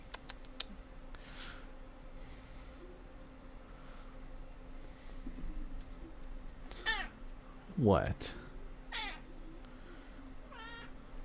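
A pet cat sitting in a lap meows, with a few thin calls and one louder rising meow close by, over keyboard typing and low room noise, with a brief spoken word.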